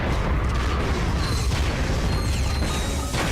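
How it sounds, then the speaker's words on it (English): Explosive barrels blow up in Ratchet & Clank: Going Commando, a dense, loud wash of blasts and crashing debris rumbling continuously with mechanical clatter throughout. "Explosions everywhere."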